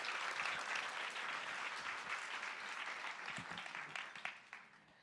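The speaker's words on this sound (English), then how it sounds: "Can we please give them a big round of applause?" A roomful of listeners at a mental health leadership keynote applauds in a thick, steady wash of clapping, fairly quiet and distant, fading slightly at the end.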